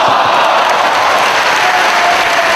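Wrestling fans in a Chicago arena give a round of applause during a match, a loud, even roar of clapping and crowd noise filling the whole short stretch.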